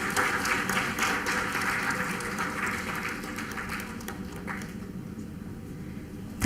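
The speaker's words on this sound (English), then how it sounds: "A huge round of applause." Dense applause from an audience at a conference valedictory session swells at first, then gradually thins and fades toward the end.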